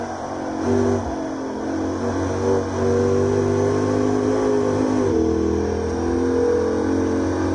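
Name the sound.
Lexus IS F engine revving in video game Assetto Corsa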